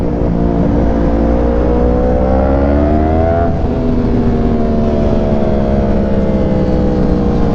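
A Honda CBR1000RRR sport motorcycle rides past, its engine a steady, loud whine whose pitch climbs and then drops as it goes by, with a continuous roar throughout.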